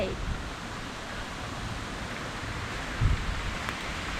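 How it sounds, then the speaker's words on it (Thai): Steady rain and strong wind rush continuously outdoors at a bank-fishing spot, forming a dense, unbroken wash of noise with a brief low thump near the end. "ตอนนี้ฝนก็ไม่หยุด ลมก็แรงมาก ลมแรงมาก"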